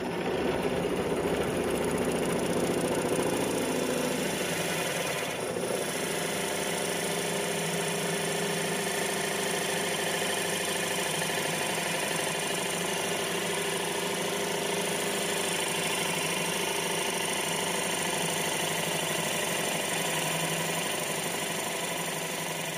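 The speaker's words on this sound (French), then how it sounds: "la perceuse va déjà bien m'avancer un peu le travail en enlevant déjà une bonne partie au centre" A power drill bores steadily into a block of wood for woodturning, a continuous loud motor whine with grinding texture that barely changes over more than twenty seconds.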